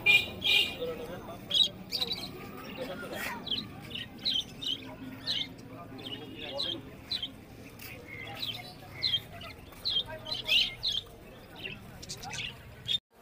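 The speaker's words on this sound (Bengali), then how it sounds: "আজকে কিছু কবুতর আর পাখি নিয়ে এসেছি।" Pigeons and other birds calling at a large pigeon market in Khalishpur, Khulna: steady high chirps and squawks repeat throughout, with a low crowd murmur and voices underneath.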